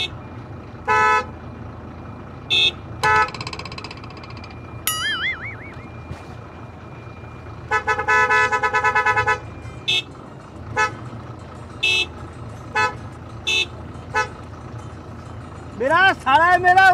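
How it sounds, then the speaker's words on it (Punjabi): A vehicle horn on a road trip from Punjab to Madhya Pradesh honks again and again in short, loud, evenly spaced blasts, with a few longer toots among them. "ਕੋਈ ਨੀ ਹਾਰਨ ਮਾਰੀ ਜਾਂਦਾ"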